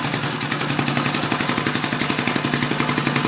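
A rebuilt Briggs and Stratton 2HP small engine runs close by with a fast, even, chugging put-put. It stays loud and steady throughout, with no talking.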